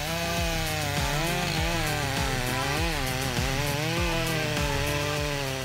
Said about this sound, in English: This chainsaw is truly a giant at chopping down giant trees, easily cutting through the trunks of towering giants.